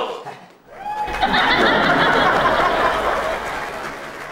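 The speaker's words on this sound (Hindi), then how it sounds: "तालियां।" A studio audience at a comedy show breaks into applause mixed with laughter and chatter, swelling after a brief pause and holding at a loud, dense wash before easing slightly.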